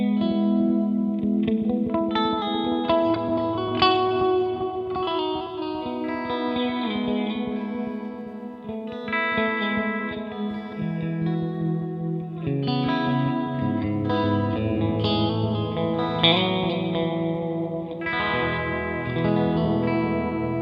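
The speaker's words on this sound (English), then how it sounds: "Just a nice analog delay with a bit of modulation." Guitar played through an Oil Can analog delay pedal with modulation, sustained chords and notes trailing into warbling, wavering echoes that wash together steadily for the whole passage, with no talking.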